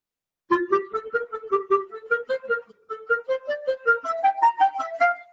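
A clarinet plays a quick melodic line of very short, clipped staccato notes, each separated by tiny gaps, alone and fairly quiet.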